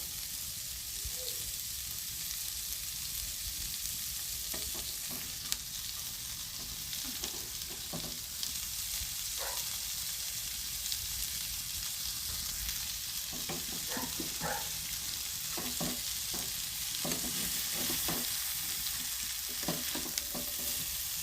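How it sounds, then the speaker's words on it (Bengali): Vegetable chow mein noodles sizzle in a pan while being stir-fried Bengali style. A steady, even frying hiss runs throughout, broken by repeated soft clatters of the spatula stirring. No one speaks. "চাউটা দিয়ে আমি নাড়তে থাকবো।"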